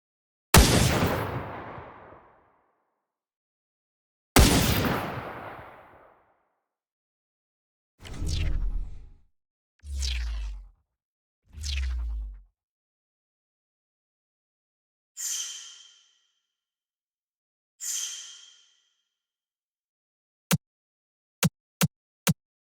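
Layered retro-organic gun firing sound designed for The Outer Worlds 2, played as isolated layers: booming bursts, shorter thuds, airy whooshes, then three sharp clicks, each separated by silence.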